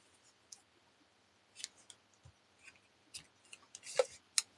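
Small scissors snip thread in a few quick, quiet cuts, faint crisp clicks scattered across a near-silent background as a card project is trimmed.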